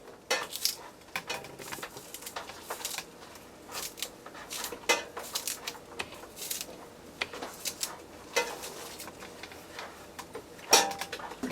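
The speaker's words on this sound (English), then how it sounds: "Now we're going to cut up some spring onion." Knife chopping spring onion on a board during Guyanese pepperpot preparation, a steady run of sharp close taps with uneven rhythm over light kitchen background, no talking.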